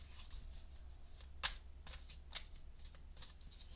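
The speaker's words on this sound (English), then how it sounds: "All right, let me give it another shuffle." Tarot cards are shuffled quietly by hand, soft papery riffles and flicks with two sharper snaps standing out against a faint background hum.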